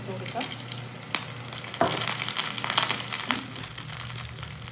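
Dried red chillies and curry leaves hit hot oil with shallots for a Malayalam-style okra curry, giving a loud, close, continuous sizzle and crackle with stirring throughout.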